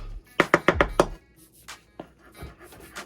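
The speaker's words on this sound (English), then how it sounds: "Take a bunch of it. Roll it up. Like that." A knife chops through rolled herb leaves on a cutting board for mussels marinara, giving five quick, close, crisp cuts in a steady rhythm, followed by a few softer scattered taps.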